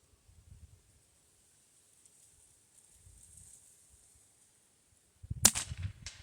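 A single sharp .22 LR rifle report cracks out near the end after several seconds of quiet, with faint low rustling and handling noise before it and a short rumble trailing after.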